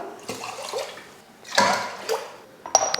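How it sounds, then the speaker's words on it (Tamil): Water is poured into a rice pot in a few uneven gushes and splashes, close by, with gurgling between pours. "சாதத்துக்கு தண்ணி ஊற்றிக்கலாம்."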